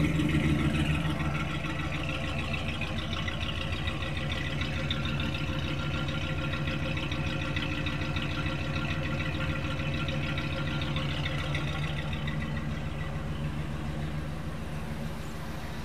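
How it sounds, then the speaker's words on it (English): A 1968 Mercury Park Lane's engine idling steadily with a smooth, low rumble, running without a break and no voices. "the sound of these engines is just wonderful"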